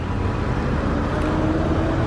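A lowered Mercedes C63 AMG W204 cruising, its engine a steady low rumble with continuous road and cabin noise at an even level throughout, no voices.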